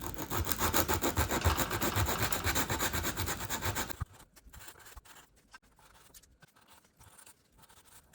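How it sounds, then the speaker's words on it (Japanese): Belt sander grinding a protruding area of a wooden guitar part during repair, a loud continuous rasping buzz for about four seconds, then stopping into quieter scattered scrapes and handling taps. "これはベルトサンダーで今ちょっとやってきちゃいます"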